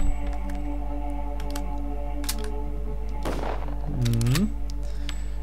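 A rifle fires once in the Pathologic video game, a sharp crack midway followed by a brief whooshing tail, set against a steady low game hum with scattered clicks and no talking.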